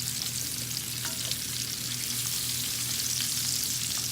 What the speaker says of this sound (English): I'm going to put our potatoes in there now.